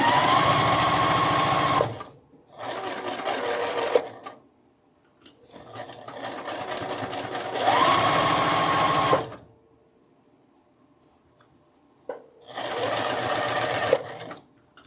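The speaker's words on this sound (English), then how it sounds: "we're going to take it to the sewing machine and sew down both sides." A sewing machine stitches fabric for a quilt block in several bursts, rapid and rhythmic, with quiet pauses between runs, close and clear.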